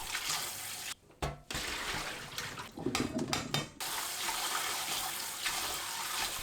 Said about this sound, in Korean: 10분 담가두었던 고구마를 채 거르고 물에 한두 번 헹궈주세요.